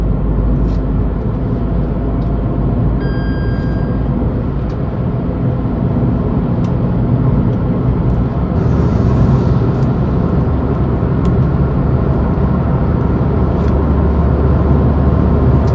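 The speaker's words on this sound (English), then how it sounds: "The car is moving in 1500 rpm." A Tata Tigor BS6 car cruising at 1500 rpm with the AC off, a steady low engine drone and broad road rumble filling the cabin, loud and continuous with no talk.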